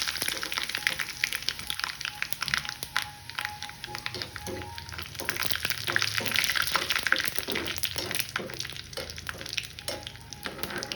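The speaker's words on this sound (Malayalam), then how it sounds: "ഇനി ഇതിലേക്ക് 1 സ്പൂണ് കടുക് ഇട്ട് കൊടുക്കാം. ഇനി നമുക്ക് ഇതിനകത്ത് 4 ഉണക്കമുളകും കൂടി ഇട്ട് കൊടുക്കാം." Mustard seeds and four dried red chilies crackle and sizzle in hot oil, a dense continuous frying hiss with scattered pops, close up and fairly loud throughout.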